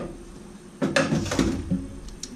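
Beef stroganoff with meat being stirred in a pan makes a burst of clattering utensil scrapes and knocks against the pan. The sounds start suddenly after a quiet moment and carry on irregularly, close and moderately loud.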